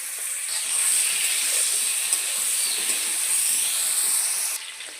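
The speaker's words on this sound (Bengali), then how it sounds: "এবার এখানে আলু আর বেগুনটা দিয়ে দেব।" Chunks of potato and eggplant go into hot oil and set off a loud, steady hiss and sizzle. The sound holds for several seconds, then drops off sharply near the end, with no voices.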